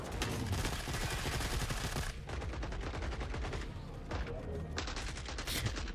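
Gunfire in the Forever Winter video game, with dense, sustained bursts of rapid automatic shots that rattle continuously and pause only briefly.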